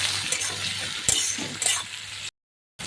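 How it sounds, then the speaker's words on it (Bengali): Chopped onion and a cut tomato fry in oil for a fish egg curry, giving a short, close, steady sizzle with light clinks of a utensil before a brief dropout. "পেঁয়াজগুলো একটু ভাজা ভাজা হয়ে গেছে, কেটে রাখা একটা গোটা টমাটো দিয়ে দিলাম"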